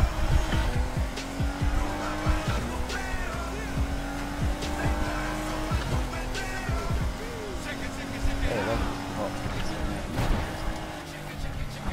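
A Nissan GTR R35 drifts in Need for Speed Heat, its engine roaring and shifting while tires squeal in long sweeping skids, with repeated bursts of revving and screeching over a dense racing soundscape.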